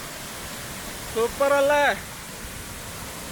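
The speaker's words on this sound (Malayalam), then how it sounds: "അപ്പോൾ നമ്മൾ വെള്ളച്ചാട്ടത്തിൻ്റെ അടുത്ത് എത്തുകയാണ്" Vaithalkundu waterfall rushes in a steady, broad wash of water noise close by, with a short burst of speech over it partway through.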